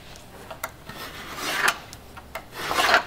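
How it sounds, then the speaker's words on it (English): A hacksaw blade rasps through material in a leatherwork supplier's workshop, with several uneven back-and-forth strokes, close and moderately loud, and no talking. "that's a hacksaw blade."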